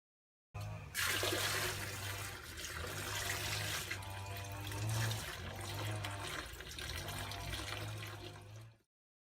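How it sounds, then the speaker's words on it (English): Clothes are hand-washed in a bucket in a half-open bathroom, with continuous sloshing and running water for several seconds, close and moderately loud, before it stops abruptly. "we asked our host for a bucket to wash our clothes in, and we washed them in our half-open bathroom"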